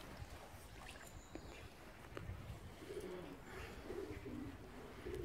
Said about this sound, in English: I can hear the pigeons.